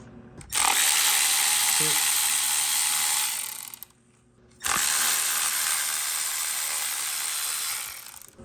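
A power ratchet spins off ground bolts on a Volvo engine during a drift car project, two loud sustained buzzing runs of a few seconds each separated by a short pause, close to the microphone.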